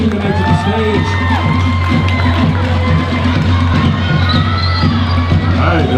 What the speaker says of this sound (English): Round of applause for our dancers, ladies and gentlemen.